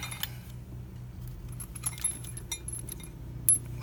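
Metal stator cover bolts picked up from a motorcycle stator cover install, light jangling clinks in scattered bursts, close and fairly quiet over a faint low hum.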